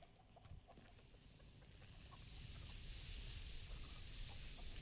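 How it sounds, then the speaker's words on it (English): Chicken clucking in The Texas Chainsaw Massacre video game, faint and intermittent beneath a steady rising ambient hiss and low rumble. "Don't scare the chicken."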